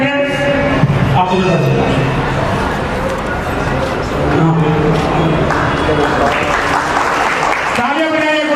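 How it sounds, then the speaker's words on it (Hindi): An audience at a Hindu religious gathering at a temple claps in a continuous, loud wash of applause lasting throughout, while a voice speaks over a microphone and a dog barks at times. "तालियां बजाइए"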